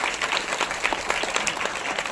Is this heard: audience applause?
yes